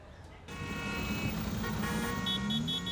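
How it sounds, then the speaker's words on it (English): Steady city road traffic of motorbikes and cars in Chennai, a continuous engine drone with horn toots and occasional beeps rising over it, moderately loud and constant after a brief quieter start. "More than 6 million motorbikes and cars push their way through Chennai every day."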